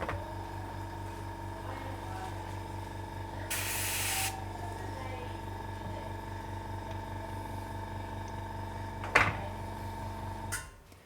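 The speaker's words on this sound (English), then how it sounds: "the airbrushing is definitely a trickier thing to stream" An airbrush spraying paint gives a single hissing burst lasting under a second, close and fairly loud, over a steady electrical hum with a few faint knocks and a sharp clatter near the end.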